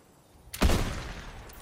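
A burst of DMR rifle gunfire in Fortnite, a sharp loud report with a brief rolling tail of reverberating shots after a quiet lead-in.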